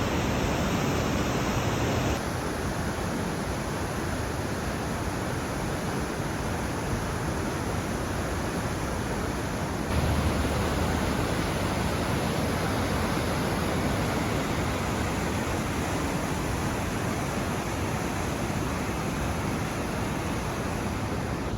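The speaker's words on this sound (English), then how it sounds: "That's a waterfall." A waterfall in the Oregon backcountry rushes in a steady, unbroken wash of noise that holds at an even level throughout, with no voices.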